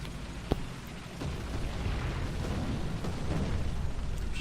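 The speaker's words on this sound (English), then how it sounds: "Some nice artillery coming down there." Artillery in the War Thunder video game, one sharp pop followed by a long, steady rumble of distant explosions with no voice.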